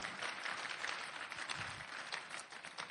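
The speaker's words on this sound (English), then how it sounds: "let's give Dr. Olumide Emmanuel a round of applause" An audience at a business seminar applauds speaker Dr. Olumide Emmanuel, a soft, distant patter of many hands clapping continuously at low volume.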